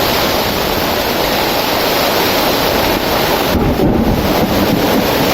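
Torrential downpour driven by strong gusting wind in a thunderstorm, a dense, loud, unbroken roar of rain and buffeting wind filling the whole clip with no break.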